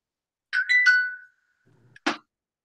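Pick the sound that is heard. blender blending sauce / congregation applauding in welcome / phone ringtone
phone ringtone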